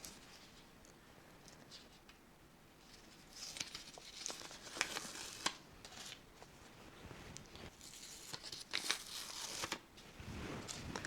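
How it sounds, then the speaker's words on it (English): Glue backing paper peels away from fabric during sewing of a felt heart garland, faint crinkling and tearing in several short bursts with quiet gaps between them, close up. "So here, that shiny part now on this fabric is the glue. Peel that off."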